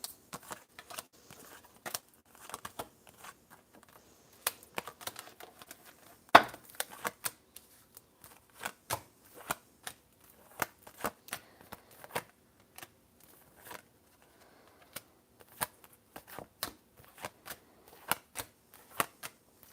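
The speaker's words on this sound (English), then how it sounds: "Okay, I'm going to shuffle 2 more times." Tarot cards being shuffled, a series of quiet irregular riffling taps and flicks spread over about twenty seconds, faint and close, with no speech.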